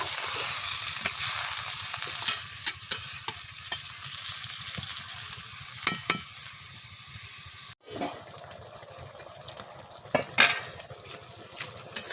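Water hits a hot pan of fish head and neem leaves with a bright, loud hiss that fades into a gentler bubbling sizzle, broken by repeated clinks and scrapes of a metal spoon against the pot.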